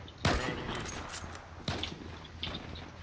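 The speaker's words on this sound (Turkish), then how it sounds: "Ben artık rastgele gelir diye sıkıyorum." Gunfire from the online shooter Zula: a sharp sniper shot followed by a second crack about a second and a half later, with faint game ambience and scattered clicks between the shots.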